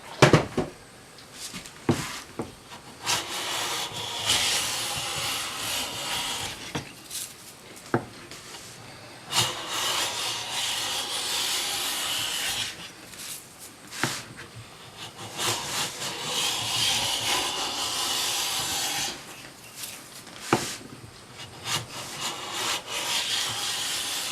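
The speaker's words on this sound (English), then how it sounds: "Get a very nice full width shaving on there" A hand plane takes full-width shavings off a wooden coffee table board in long, repeated rasping passes, close and fairly loud, with short pauses and knocks between strokes.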